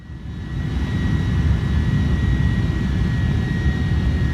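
Airliner jet engines in Microsoft Flight Simulator give a loud, steady roar with a low rumble and a faint high whine, swelling over the first second and then holding constant.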